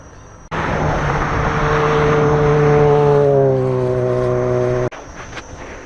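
The M Super engine swells into a strong, steady drone on a ride out for donuts. It holds a loud, rising tone for several seconds before cutting back to a quieter idle.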